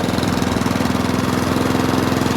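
A lawnmower engine ticks over at idle, a steady rapid mechanical chugging with an even pulsing rhythm, loud and close with no other sounds.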